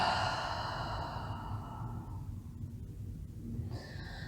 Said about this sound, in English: Exhale it all out.